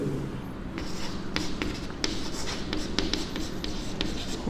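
A pen writes steadily during a maths lesson on logic, giving a close run of short scratchy strokes and taps with no talking.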